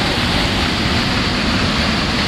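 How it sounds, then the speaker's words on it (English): Wai'ale Falls on Hawaii's Big Island pours in a dense, unbroken roar of rushing water, loud and close with no pauses, heard from the top of the falls. "Top of the waterfall."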